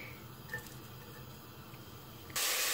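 Onion drops into hot olive oil in a deep pot and bursts into a loud, sudden sizzling hiss that cuts in near the end after a quiet, low background hum.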